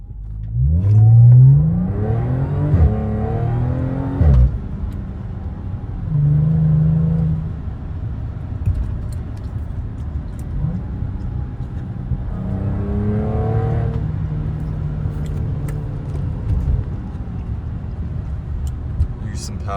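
A 2011 Audi S4 B8 with an Injen intake revving up through paddle-shifted gears, loud and close, the engine note rising and dropping at each shift, with a second strong pull later in the run.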